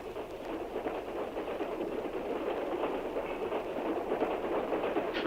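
Steady rumble and rattle of a moving train, a continuous mid-level roar with faint rhythmic clatter, heard from inside the carriage with no talking.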